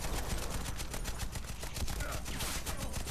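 Rapid, dense bursts of gunfire fill a Warface match, with sustained automatic fire and overlapping shots loud and continuous throughout.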